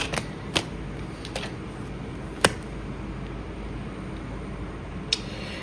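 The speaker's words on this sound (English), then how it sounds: "Let's pull some more cards." Tarot cards are drawn from a deck, producing several sharp, isolated card snaps and flicks spaced irregularly over a quiet, hissy room background.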